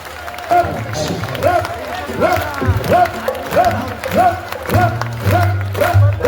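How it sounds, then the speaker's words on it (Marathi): An audience clapping in unison to a set rhythm at a public event in Dombivli, sharp claps falling in repeated even pulses, loud and close, with a voice calling out over them. "रिदम मी देणार टाळी तुम्ही वाजवणार"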